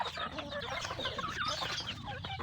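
Native chickens cluck close by, a quiet flurry of short overlapping clucks and chatter from several birds in a farmyard.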